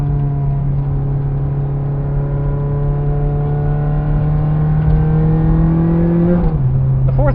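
A Ferrari F430 with a loud Fabspeed exhaust accelerates, its engine note rising steadily in pitch over several seconds before a brief drop at a gear change, close and loud with no talk.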